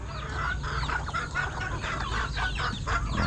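Black ulikba chickens cluck repeatedly in short, overlapping bursts close by, over a steady low background hum, with no talking.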